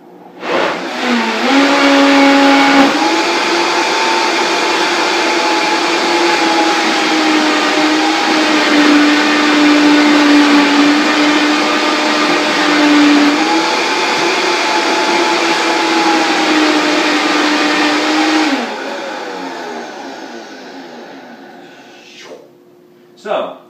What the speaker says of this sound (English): All this hard kelp will start to marinate a little bit in the blender with the salt, the apple cider vinegar, the fats